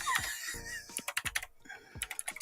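Rapid, irregular clicks of typing on a computer keyboard, a string of close, crisp key taps with short pauses, with no voices.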